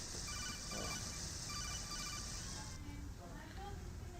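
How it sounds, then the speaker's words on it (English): Codec call ringing in Metal Gear Solid 2, a repeating electronic tone that pulses steadily for a few seconds over a dense bed of game background sound, then stops. "Have a phone call. Is it the Colonel?"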